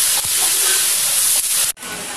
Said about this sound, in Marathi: गरम तेलामध्ये जिरे टाकले